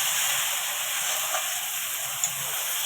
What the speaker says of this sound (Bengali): আমি একটু নাড়াচাড়া করে দিচ্ছি।